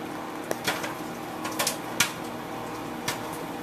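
Scattered sharp pops, a handful of quick irregular bursts, against a steady low hum, heard up close: popcorn popping in a microwave.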